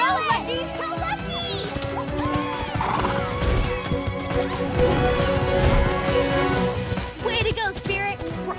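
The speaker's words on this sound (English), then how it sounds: "we'll see whose horse can cross the finish line first!" Animated horses race toward a finish line, with loud neighs and whinnies, clip-clopping hoofbeats and crashing effects layered under excited voices and music for several seconds.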